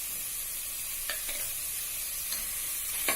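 Vegetables and biryani masala with chili, turmeric and coriander powders are stirred in a sizzling pan for horse gram veg biryani; a constant hiss of frying runs underneath a few soft spoon scrapes.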